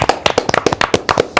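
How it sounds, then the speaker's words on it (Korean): A short burst of lively hand clapping from a small group at a Korean talk broadcast studio, loud and close, with sharp, irregular claps running throughout and no talking. "박수 소리는 제가 가장 큰 것 같다"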